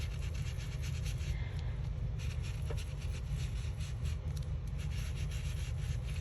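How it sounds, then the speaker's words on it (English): Paper edges are distressed by hand for a handmade hanky pocket embellishment made from book pages and tissue, giving a soft, continuous close rubbing and scraping with no talk. "give this a little bit of antiquing or distressing"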